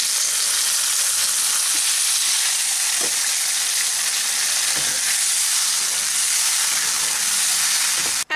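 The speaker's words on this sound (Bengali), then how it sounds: "এখন এটাকে আমি তিন থেকে চার মিনিটের জন্য ফুটতে দিচ্ছি" Pumpkin simmering in a pot with half a cup of sugar and about a cup of water for chutney, giving a steady, close bubbling hiss with faint soft pops and no talk.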